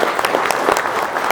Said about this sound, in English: So big round of applause for our panelists